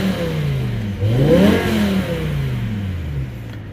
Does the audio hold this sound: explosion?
no